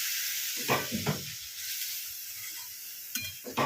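A splash of water hits a hot pan of frying vermicelli, producing a loud, continuous close-up sizzle and hiss, with a few stirring scrapes breaking through.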